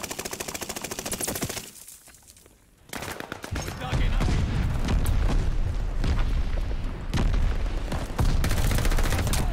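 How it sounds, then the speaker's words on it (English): Mortar explosions and gunfire in a shooter video game, rapid bursts of shots and heavy booms, a brief lull, then sustained loud, dense battle noise with continuous firing and blasts. "Mortars incoming!"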